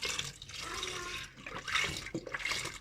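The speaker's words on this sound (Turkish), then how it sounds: "Şöyle sütümüzü dökelim." Milk pouring into a pot of cooked rice for baked rice pudding, a faint continuous splashing gush with liquid gurgles, close and steady, without talk.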